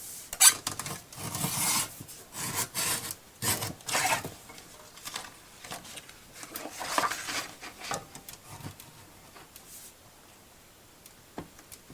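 Paper being trimmed for a spring-themed scrapbook album, heard as intermittent close rasping and scraping strokes in short bursts, with quiet pauses between them and no talking.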